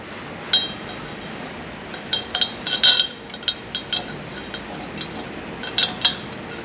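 Metal carriage bolts are fitted into a Dewalt DW7440RS saw stand, making a scattered series of light, bright metallic clinks and taps, some in quick clusters, against a quiet background.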